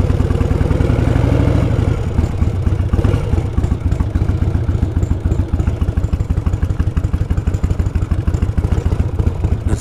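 A 1988 Harley-Davidson Evo Softail with a DJP sidecar runs loud and close, its engine thumping in a rapid even rhythm, with some clatter over a low throb.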